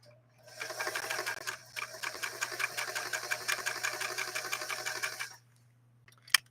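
A Singer 328K sewing machine runs a straight stitch on cotton, a fast even mechanical chatter for about five seconds under a low steady hum, then stops with a single sharp click.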